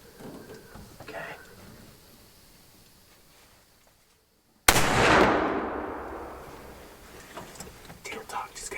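A single loud gunshot fired at a deer during a Michigan hunt, a sharp broadband crack after a hushed pause, its echo rolling away over the next few seconds, with faint whispering talk before and after.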